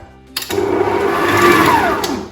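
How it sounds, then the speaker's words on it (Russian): An electric mixer whips cream at high speed for a chocolate cake. The motor starts abruptly after a brief pause, then holds a loud, steady whir for about two seconds. "И теперь взбиваю на быстрых оборотах."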